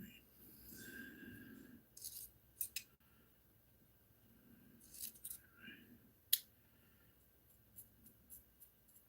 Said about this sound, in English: snipping it off.